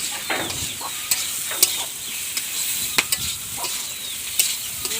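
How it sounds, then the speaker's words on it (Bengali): A spoon stirs a fish curry base of spices with salt and turmeric in a hot pan, quiet sizzling under repeated scraping strokes and clinks against the metal, no voices. "নুন আর হলুদ দিয়ে অল্প সময়ের জন্য নাড়াচাড়া করে নিলাম"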